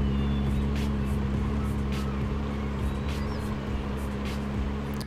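Idling engine of a really old car, the Mighty, in Roblox Jailbreak: a steady low hum held throughout at even loudness, with faint background noise and no talk.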